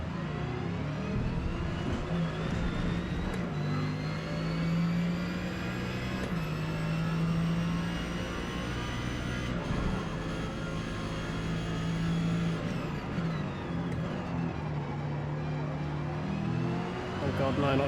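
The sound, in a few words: Lamborghini GT3 car engine accelerating in video game Forza Motorsport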